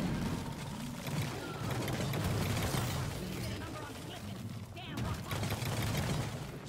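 Rapid gunfire in Deep Rock Galactic blasting frozen rock blocks, a dense continuous rattle of shots under speech, with a short pause midway before the firing picks up again.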